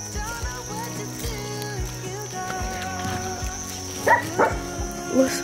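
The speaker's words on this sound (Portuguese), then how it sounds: "Esse cachorro tá demais. Vocês estão escutando?" A dog barks several times over busy background noise, with a tight cluster of yips and barks near the end and another bark just after, moderately close and louder than the surrounding sounds.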